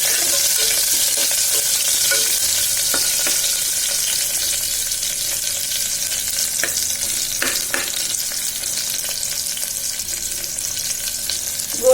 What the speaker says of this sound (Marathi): गोल्डन ब्राऊन कलर येईपर्यंत कांद्याला परतून घ्यायचा